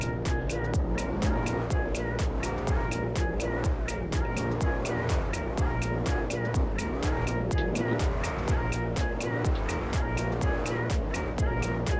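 A V8-swapped Mazda MX-5 Miata drift car in the Drift 21 game drives with a steady, droning engine note and a fast ticking pulse. Tire squeal and skidding run continuously underneath at a moderate level.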